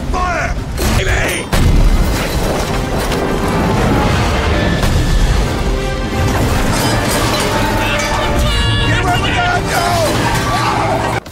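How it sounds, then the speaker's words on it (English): Cannon firing in a Liam Neeson action movie scene: a heavy boom bursts out early and the rest stays a dense, loud cinematic mix of crashes, machinery and crowd hubbub. "Fire in the hole! Fire! Boom!"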